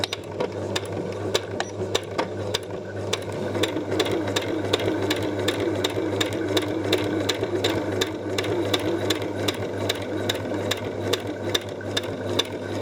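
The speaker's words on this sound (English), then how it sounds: "I haven't used my sewing machine for ages." A home sewing machine stitches a crocheted Tunisian basket weave zipper bag, a steady, fast mechanical rattle of needle strokes under a constant motor hum, running alone without talk.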